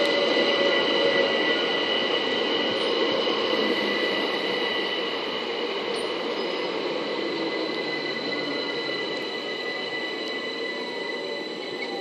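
A Class 378 London Overground train, unit 378145, departing Brockley station on the Brighton main line, a steady loud rolling rumble with high whine tones holding throughout, gradually easing, no talk.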